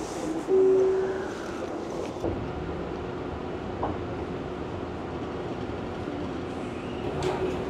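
A Tokyo train pulls into the platform near Asakusa, heading toward Oshiage, with a steady loud rumble of rolling wheels and motor hum throughout and no talk.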